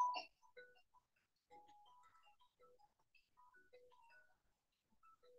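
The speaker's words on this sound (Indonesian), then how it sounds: "Saya tak terima telepon dulu, bentar." A phone plays a ringtone for an incoming call, a quiet, clear melody of short electronic tones in an irregular pattern with silence between notes and no talking.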